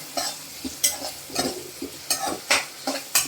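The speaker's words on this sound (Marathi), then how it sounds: "टॉमॅटोचा हलकासाच परतायचा आहे" Tomatoes sautéing with browned onion in a pan, rhythmic stirring scrapes roughly every few tenths of a second over a light sizzle, close and fairly loud, no speech.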